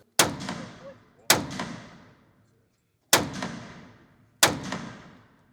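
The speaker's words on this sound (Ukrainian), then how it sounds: "Сьогодні тут знову лунають постріли. Тепер уже в сучасному тирі." Four sharp, loud gunshots at an indoor shooting range, each followed by a booming echo that decays, spaced irregularly in an enclosed space, with no talking.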